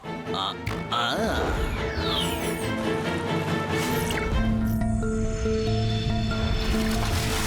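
Cartoon sound effect of a chemical being poured into water: squelchy, bubbling splashes with sliding whistle-like tones, followed by a sustained watery fizz with held tonal notes.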